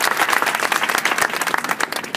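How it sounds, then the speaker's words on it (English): A rally crowd at UT Austin claps loudly to welcome a speaker to the front, the applause dense and close, with individual sharp claps standing out and fading slightly toward the end. "Give him a round of applause."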